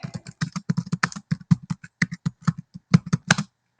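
Rapid keyboard typing on a computer, a steady run of crisp close keystrokes with short pauses, heard alone without talk.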